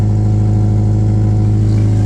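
Subaru Legacy GT engine idling with no exhaust fitted, a loud, steady, close rumble that runs unbroken and has no other sounds over it.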